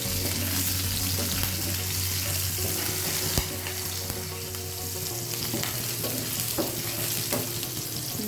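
Green chilies and ginger frying in oil in a pan and being stirred, a loud, close, continuous sizzle with scraping strokes and a low steady hum underneath, no one speaking.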